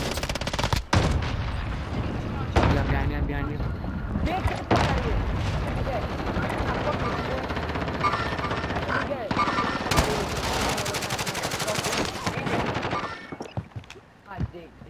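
Rapid bursts of video game gunfire, loud and close, with automatic fire rattling through most of the stretch, while players talk excitedly over the shooting.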